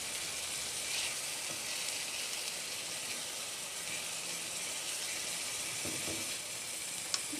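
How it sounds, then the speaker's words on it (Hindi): Chopped masala spices frying in a pan while a baingan bharta is prepared, giving a steady, soft sizzling hiss throughout with occasional faint stirring scrapes. "मसाले को मैं अच्छे से भून लूँगी थोड़ा सा।"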